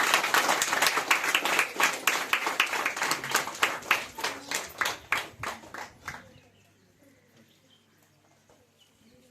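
An audience at a village International Women's Day celebration near KGF claps loudly and fast for about six seconds, then the applause fades into near silence with faint background murmur.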